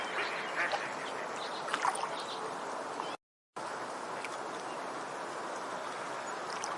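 Faint duck quacks sound intermittently over a soft, steady outdoor ambience, with a brief moment of silence partway through.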